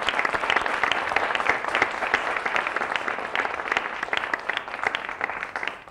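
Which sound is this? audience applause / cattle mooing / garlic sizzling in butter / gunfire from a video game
audience applause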